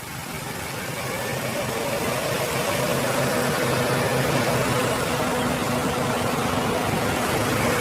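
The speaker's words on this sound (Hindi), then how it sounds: "तो ये था सुजुकी K12N पेट्रोल इंजन" A Maruti Suzuki Baleno's Suzuki K12N petrol engine runs at a steady idle close by, a continuous even hum with a faint vibration and no speech over it.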